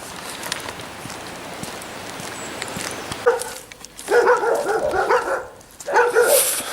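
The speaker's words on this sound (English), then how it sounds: "Some friendly dogs" A few friendly dogs bark in short bursts midway and near the end, moderately close, over an outdoor background hiss in fields near Segrwyd Isa.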